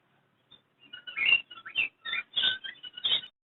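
A pair of zebra finches at a Sunday bird market in Chichawatni give a quick series of high, clipped nasal chirps, close by and clear against near silence.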